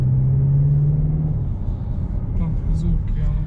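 Audi A7 3.0 V6 Biturbo Competition engine droning steadily while driving, a low continuous rumble with a falling hum early on, with someone talking over it.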